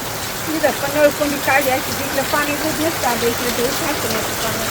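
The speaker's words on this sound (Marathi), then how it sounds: "पाऊस पडायला लागला बघ" Steady rain falls outdoors as a continuous broadband hiss, with a person talking over it throughout.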